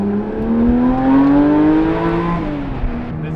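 A car with a newly fitted exhaust revs hard and close, its throaty engine note climbing and holding steady for several seconds before easing off slightly.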